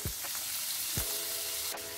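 Tomato fries in a dhaba-style dal fry tadka with a bright, continuous sizzle, broken by a few sharp stirring scrapes. No one speaks.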